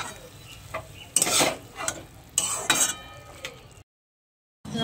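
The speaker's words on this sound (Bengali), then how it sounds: "জিরে বাটা, একসঙ্গে সব মিশিয়ে নেব।" Chicken momo filling being mixed with cumin paste and salt, close wet squelching and scraping strokes in uneven bursts, pausing briefly into silence near the end.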